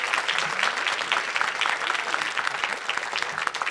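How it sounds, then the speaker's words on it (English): A crowd applauds continuously at an oath of office swearing-in ceremony, with steady dense clapping at a moderate distance that holds evenly throughout. "Let's give her a round of applause."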